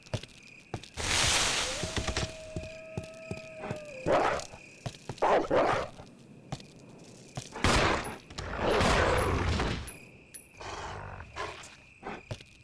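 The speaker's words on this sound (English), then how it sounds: "I'd imagine 7 rounds is probably enough to deal with a single dog." Gunfire aimed at a dog in the Resident Evil video game: several sharp, loud shots in quick bursts, mixed with snarling creature sounds and game effects, with no talk.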